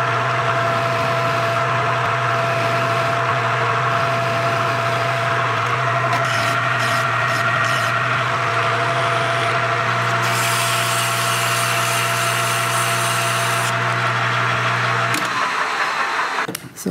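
A motorcycle rearset part for a 1974 Ducati 750 GT frame is sanded after lathe work, a continuous close rasping rub over a steady machine hum that changes tone partway and stops near the end.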